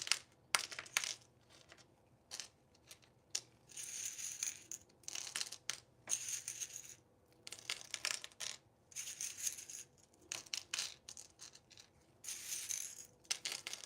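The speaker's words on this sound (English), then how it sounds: "So clear glass first, then I just sprinkle some pink over it." Crushed pink glass is sprinkled over clear glass in a crafting session, giving bursts of tinkling, gritty clinking grains in repeated short pours with pauses between, close and fairly quiet with no talking.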